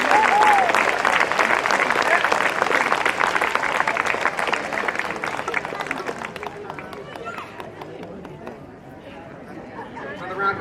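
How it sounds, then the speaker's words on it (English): Loud audience applause with dense clapping and crowd chatter at an outdoor amphitheater open mic night, tapering off toward the end. "Applause for Mr. Bob Levens"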